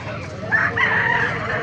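A Brahma rooster crows at a busy livestock market in Baliuag, Bulacan, one drawn-out call rising over a steady din of crowd noise and other animals.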